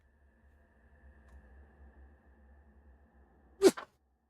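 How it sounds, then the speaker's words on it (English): A single sharp sneeze bursts out near the end after a quiet stretch of faint background hum and soft breathing, during play of Days Gone Remastered. "One sec, man. I got to sneeze."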